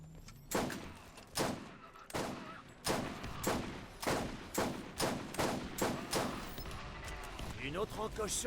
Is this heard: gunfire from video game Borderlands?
yes